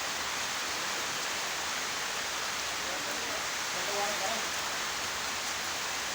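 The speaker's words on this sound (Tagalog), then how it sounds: "Ang sarap ng ulan." Steady hiss of rain falling, constant and broadband, with a faint voice briefly audible beneath it.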